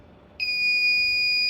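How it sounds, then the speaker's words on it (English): Emergency buzzer on a smart safety helmet for mine workers sounds as a single steady, piercing electronic tone lasting just over a second, close and loud against faint background hiss. "this is the buzzer, which is a buzzer which starts up whenever an emergency is detected"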